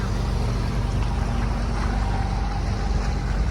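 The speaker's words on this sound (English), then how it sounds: "That's a 140 horsepower engine." A motorboat with a 140 horsepower engine cruises along a busy canal, its engine rumbling low and steady under rushing water and wind noise.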